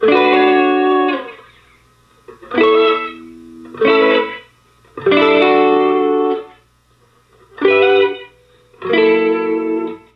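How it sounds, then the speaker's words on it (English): A raw, unprocessed distorted electric guitar sample plays a sequence of sustained chords in separated phrases, loud and alone, with short gaps between them. "let me just start off by playing the raw guitar sample that he provided for this collab."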